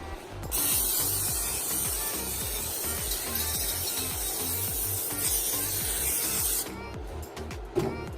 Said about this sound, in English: we're going to take our lovely springform pan and we're going to spray it with some cooking spray